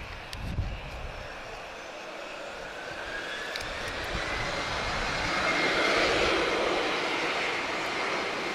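A TAP airliner on flight TP566 departs for Hamburg, its jet engines building from a steady rumble into a broad, swelling roar that grows louder toward the end before holding.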